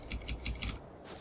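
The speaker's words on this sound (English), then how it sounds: "Probably hear my keyboard clicking" Four quick computer keyboard key clicks in a loose rhythm, close and fairly quiet, followed by a brief softer rustle.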